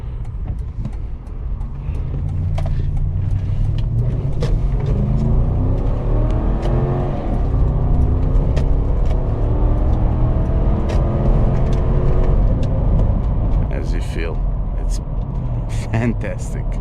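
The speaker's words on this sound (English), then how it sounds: "the sound of the V8 is honestly spectacular" A 2008 Toyota Land Cruiser VX petrol V8, an almost three-ton vehicle, accelerates with a steady deep engine rumble and rising tone heard from inside the cabin, with brief clicks and faint road noise throughout.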